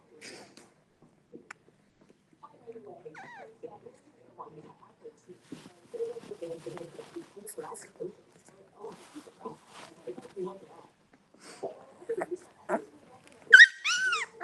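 Small puppies whimper and let out scattered high yips, faint and intermittent, with a few sharper squeaks near the end and some soft talking.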